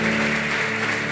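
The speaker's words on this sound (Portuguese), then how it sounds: "Dê um aplauso a Jesus." A church congregation applauds, dense steady clapping that fills the whole brief moment over a sustained musical tone or organ chord.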